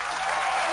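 Applause from a podcast audience, a short steady burst of dense clapping with no voices over it.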